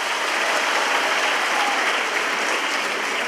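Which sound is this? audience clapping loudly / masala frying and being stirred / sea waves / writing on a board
audience clapping loudly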